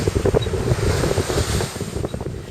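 Aboard a sailing yacht racing in the Fastnet, strong wind buffets the microphone over the rushing wash of waves at sea, a loud, continuous roar without talk.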